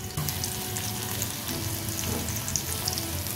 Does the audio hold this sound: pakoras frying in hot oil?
yes